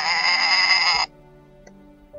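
Goat-like bleating used as the T-Rex sound effect in The Lost World, one loud sustained cry lasting about a second before cutting off to near silence with a faint click.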